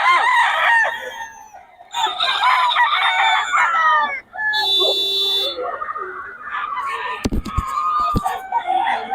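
A white Kelso gamefowl rooster crows loudly and close, with repeated clucks and calls among other gamefowl, an electronic buzzing tone briefly cutting in, and people talking in between.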